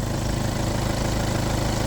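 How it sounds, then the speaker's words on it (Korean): A Kia All New Carnival diesel minivan engine idles steadily just after starting, a smooth, even low hum at close range with no talk over it. "엔진 소리가 이렇게 부드러워야 돼요."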